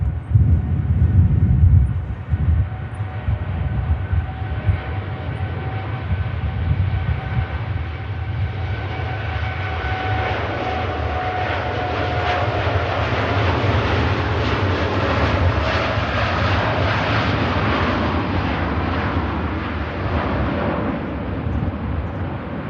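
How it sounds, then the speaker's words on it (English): Middle Eastern carrier's airliner departing Manchester Airport, a broad rumbling jet roar that builds and sustains for over twenty seconds with a faint high engine whine, close and loud, no talk. "awesome departure from one of the Middle Eastern carriers."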